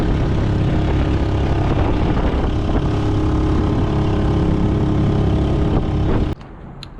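A dinghy outboard motor drones loud and steady as it crosses rough, choppy water in the Channel Islands. Bumps and splashes run through it before the engine noise drops away abruptly near the end.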